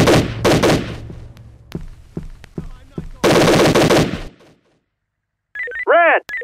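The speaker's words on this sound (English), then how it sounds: "I'm taking fire!" Bursts of automatic gunfire from the tactical police shooter S.W.A.T 3, with loud dense volleys early and again in the middle, then a pause and a short electronic ringing tone near the end.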